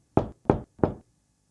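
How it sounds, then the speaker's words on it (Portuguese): Three firm knocks on a wooden door, evenly spaced and close, each a short hollow thud, with silence afterward. "Chapeuzinho chegou à casa da vovó e bateu na porta."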